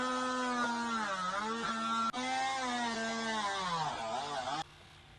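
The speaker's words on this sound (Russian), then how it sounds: "Совместно нажитое решил просто распилить бензопилой" A petrol chainsaw whines loudly and steadily as it cuts household belongings in half, its pitch dipping and rising with the load before it cuts off abruptly near the end.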